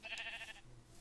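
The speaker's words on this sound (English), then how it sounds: "Sheep." A Minecraft sheep bleats once, a quiet, brief cry that fades out within about half a second.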